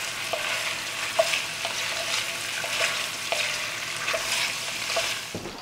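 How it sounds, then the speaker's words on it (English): Two 14-ounce packages of smoked sausage sauté in a pan, a steady close sizzle with periodic soft scrapes and clicks of stirring. "So we're just gonna saute these up and give a little color."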